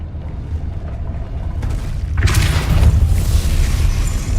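Depulso force spell cast in Hogwarts Legacy, a low rumbling whoosh that swells into a loud booming burst about halfway through and keeps roaring to the end.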